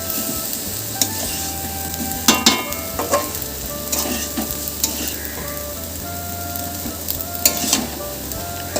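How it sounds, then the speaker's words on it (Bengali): Sliced garlic and onion frying on a low-to-medium gas flame for a mustard potato dish, a steady crackling sizzle with scattered sharper pops and spoon scrapes throughout. "এখানে 2 চামচ আন্দাজ রসুন আর পেঁয়াজ স্লাইস করে নিয়েছি, দিয়ে দিচ্ছি।"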